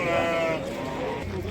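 Sheep bleat at a livestock market where rams and goats are for sale, a harmonic animal call standing out near and loud at the start over busy crowd noise and talk.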